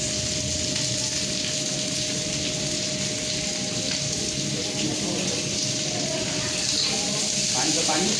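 Running tap water in a kitchen while chicken is being cooked, a constant splashing rush at close range with a faint steady tone beneath and a voice speaking quietly over it.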